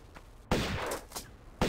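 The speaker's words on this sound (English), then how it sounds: "He's firing bullets?" Enemy gunfire in the 1996 original Tomb Raider video game: a few sharp, loud shots, one at mid-clip with a short ringing tail and another at the very end, over a quiet background.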